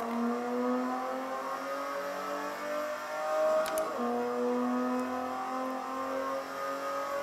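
A race car on the Hockenheim circuit accelerating hard out of a corner, its engine note climbing steadily through the revs with one quick gear change midway, loud and close with no talk.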